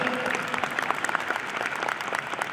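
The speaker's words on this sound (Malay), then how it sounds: "Bagi tepukan kepada seluruh diamond dan pakar-pakar diamond." A seated audience applauds at an awards-style gathering, a dense steady patter of many hands clapping for the whole stretch, with no voices over it.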